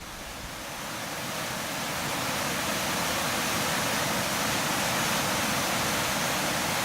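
A waterfall pouring into its plunge pool at Hida-Osaka, Gifu, a dense, continuous roar of falling and splashing water heard close up, growing slightly louder over the first seconds and then holding steady with no voices.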